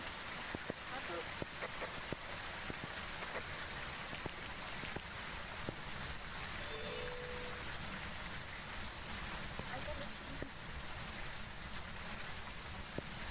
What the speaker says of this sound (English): That's a loud rain.